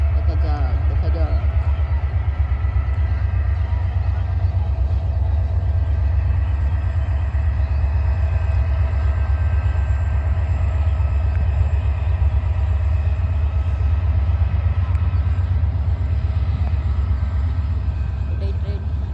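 Train running at increased speed, a loud continuous low rumble with steady rattling, heard from on board, with voices faintly underneath.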